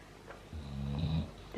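A sleeping dog gives a low, purring snore, a single soft drawn-out rumble close by in a quiet kitchen; no talking.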